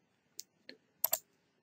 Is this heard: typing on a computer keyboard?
yes